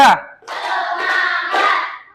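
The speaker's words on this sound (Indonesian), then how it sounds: "Tepuk 1, tepuk 3," Classroom students clap out a rhythm pattern: one sharp clap, then a longer stretch of group voices chanting along, close and fairly loud.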